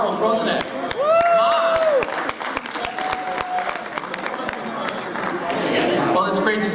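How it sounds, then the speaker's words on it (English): Convention audience at a Monkees historians panel claps in a brief round of applause, sharp claps scattered across the room with voices and chatter running over and through it. "let's have a round of applause for Charles"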